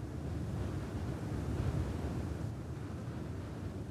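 Steady wind rushes across a volcanic mountainside in Cape Verde, a faint, even, broadband roar with gentle gusts and no voices.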